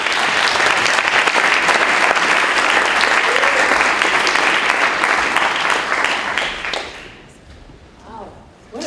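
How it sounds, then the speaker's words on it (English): An audience at a leadership talk claps loudly in sustained applause for several seconds, the clapping thinning and fading toward the end. "I would love for you to give a round of applause for Ginny Whitelaw."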